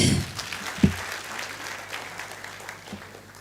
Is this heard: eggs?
no